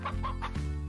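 A rooster in the video game Slime Rancher gives a quick run of three close clucks followed by a lower throaty note, short and clear with no talk over it.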